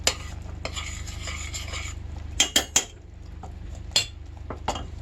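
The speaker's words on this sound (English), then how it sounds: "So I add the peanut butter at this point because then I find it's better incorporated. So I'm just going to stir this in" Spoon stirring peanut butter into a no-bake cookie mixture in a pot, with soft scraping and several sharp clinks against the metal, close up and without talking.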